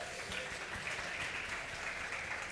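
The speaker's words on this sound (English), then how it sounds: "let's have a big round of applause for our YMS community" A crowd at a youth trends event in London applauds the YMS community with steady, dense clapping that fills the whole moment without a break.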